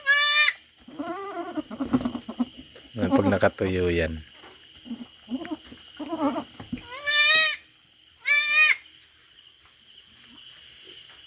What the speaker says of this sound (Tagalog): Ang cute ng kambing.